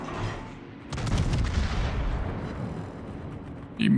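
Battleship guns in a naval video game firing armor-piercing shells, a heavy booming salvo that swells and rumbles for a couple of seconds before a second blast begins at the end, loud and close with no talk.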